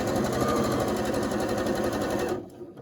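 A sewing machine runs at a steady fast pace stitching quilt fabric, its rapid even mechanical chatter loud and close before it stops abruptly near the end, leaving a brief quieter tail.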